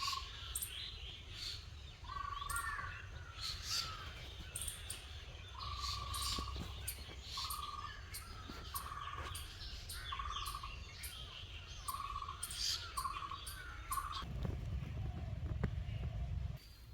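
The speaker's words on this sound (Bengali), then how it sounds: "কত পাখির আওয়াজ শোনা যাচ্ছে" Many birds chirp and call repeatedly across irrigated farmland where a shallow tube-well pump runs, a steady low mechanical hum underneath, with distant traffic rumble joining near the end.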